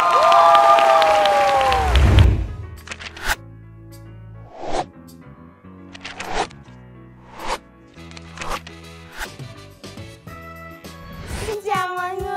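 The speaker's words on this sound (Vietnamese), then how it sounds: "Một tràng pháo tay thật lớn cho nhóm nhạc nữ đến từ xứ sở Kim Chi" A television game show audience in Vietnam briefly bursts into applause and shrill cheering for the K-pop girl group 2NE1, a loud two-second roar that cuts off into quiet broken by scattered clicks and rustles.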